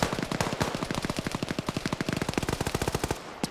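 Rapid automatic gunfire in a video game PvP match, a dense burst of around thirty close, loud shots in an even fast rhythm emptying a magazine, stopping abruptly at the end, with no voices.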